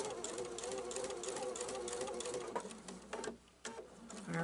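A Pfaff sewing machine stitches a pillow seam with a fast, steady mechanical whir, running continuously and close, then slowing and pausing briefly near the end.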